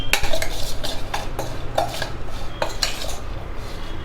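Egg paniyaram batter is stirred with curry leaves in a bowl, a spoon clinking and scraping against the sides in quick repeated strokes, close and clear with no talking.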